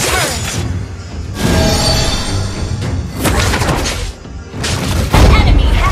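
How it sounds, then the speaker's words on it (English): A turret is destroyed in Mobile Legends amid loud booms, crashing impacts and whooshing effects, with several heavy hits spread across a busy mix of game sounds. "Your team destroyed the turret!"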